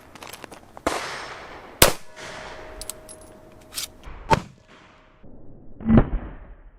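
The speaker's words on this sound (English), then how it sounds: "9x18 Makarov out of a Bulgarian Makarov. It's a PM01. 7 yards." Shots from a Bulgarian Makarov PM01 pistol firing 9x18 Makarov rounds at a 7-yard target outdoors, several sharp loud cracks spaced irregularly, with metallic clangs and fainter rattles between them.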